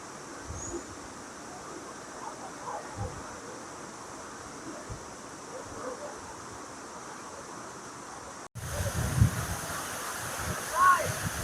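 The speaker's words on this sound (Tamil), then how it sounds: "ரொம்ப அருமையாக இருக்கு பார்த்தீங்களா அந்த நீர்வீழ்ச்சி பார்க்க" Agaya Gangai waterfall at Kollimalai, water plunging from a great height, makes a steady broad roar throughout, with a brief break before it resumes slightly louder.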